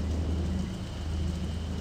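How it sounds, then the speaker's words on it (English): Steady rain falls in the video game Sanitarium, a constant wash of noise with a low rumbling bed, even and unbroken throughout with no voices. "Oh, it's raining."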